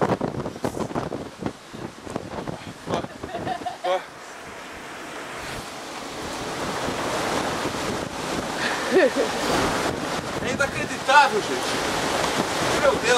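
Very strong cyclone wind at Itanhaém, Brazil, roars and buffets the microphone in loud, uneven gusts, with rattling bursts early on and then a sustained rushing howl that swells toward the end.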